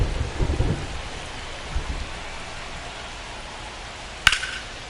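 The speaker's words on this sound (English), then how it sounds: "This rain is not letting up." Steady rain pours at an outdoor baseball game, with a low thunder rumble near the start and a sharp crack partway through.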